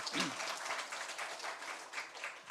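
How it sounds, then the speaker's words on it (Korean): Church congregation clapping during a Sunday worship service, a fairly faint, brief burst of applause in a reverberant hall, with a voice briefly over the start. "우리 하나님께 영광의 박수 올려드리겠습니다."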